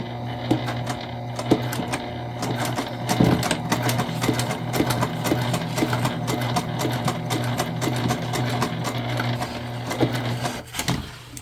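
A sewing machine top stitching a 1/8-inch line along a tote bag, humming and clattering steadily without pause for the whole stretch, close and fairly loud.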